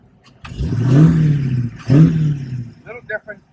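A Dodge Challenger with the Hemi 392 V8, rated at 485 horsepower, revs twice in loud, close bursts, then gives a few short, sharp blips as the throttle snaps shut.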